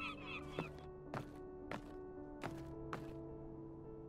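Geese-like birds in WW2 Rebuilder give a series of sharp, nasal honks at irregular intervals, about six calls over a steady low background hum, moderately close.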